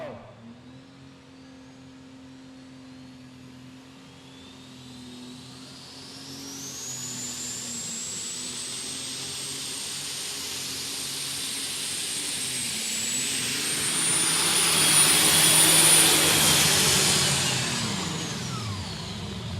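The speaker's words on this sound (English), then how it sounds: "Sounds like a jet engine, because it pretty much is one." A jet-engine-powered pulling tractor at a county fair tractor pull in Oregon, Illinois spools up into a rising turbine whine and roar that swells, peaks loud near the end, then starts to ease off.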